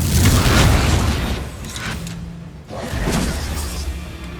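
A Confringo blasting spell from the Hogwarts Legacy video game goes off as a loud, booming explosion with a whooshing burst. It fades briefly, then a second blast swells again. No one speaks.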